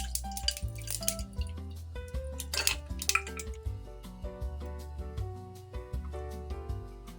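Ice and water are added to a small pot: close, bright clinks and knocks of ice cubes against metal mixed with splashing and dripping water, in an irregular series of taps.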